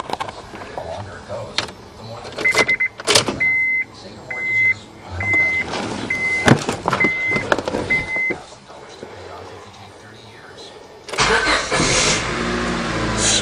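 A Honda Civic, just back together after a timing belt change, cranks and catches in a home shop, with bursts of starter noise and engine sound among clanks and a voice. A loud, steady running roar takes over near the end.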